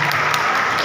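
A brief, loud burst of audience applause at a talk about the history of an Islamic Village foundation, dense clapping with no speech over it.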